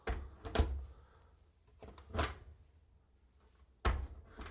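The door of an Electrolux front-loading washing machine is pushed shut slowly, giving several separate dull thunks and latch clicks spread over a few seconds, close by and with no voices.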